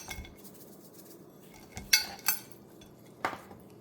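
Marinated corn is tossed with oil, salt and black pepper for succotash, giving a few scattered utensil clinks and scrapes against a bowl. Most hits are light, with a couple of sharper knocks among quiet gaps.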